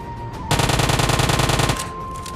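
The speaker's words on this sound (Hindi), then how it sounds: "और तभी हमें फायरिंग सुनाई देती है।" PUBG Mobile gunfire: one loud, fast automatic burst of rapid repeated shots lasting just over a second, preceded and followed by quieter game ambience, with no talking.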